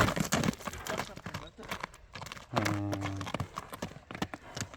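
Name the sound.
horse hooves clip-clopping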